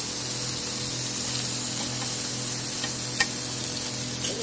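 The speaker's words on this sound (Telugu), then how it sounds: "మన చేపలు అనేవి బాగా వేగిపోయాయి చూడండి, బాగా రోస్ట్ అయ్యాయి" Dry fish frying in hot oil, a steady close hiss and sizzle running throughout with faint crackles and one brief sharp pop near the end.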